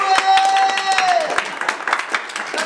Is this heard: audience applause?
yes